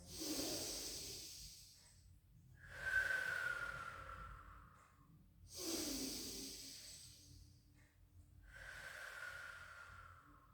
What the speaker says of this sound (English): take some lovely deep in exhales